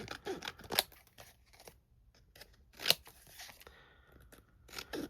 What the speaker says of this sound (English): And again, trim out any excess.